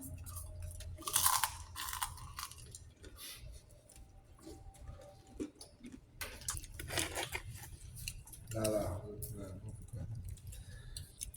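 Someone eating kunafa dessert close to the mic, with repeated crunchy bites and chewing in irregular bursts over a quiet background, and no talking.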